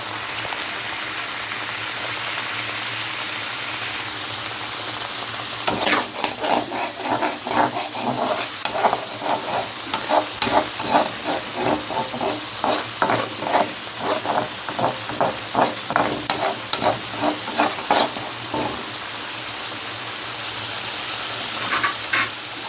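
Spice paste for a sea fish curry is stir-fried in a pan: a steady sizzle under a run of rhythmic scraping stirs that lasts about thirteen seconds before the pan settles back to a soft hiss. No one speaks.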